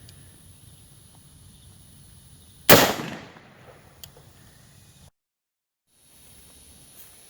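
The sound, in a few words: 5.56 rifle shot hitting a homemade ceramic armor plate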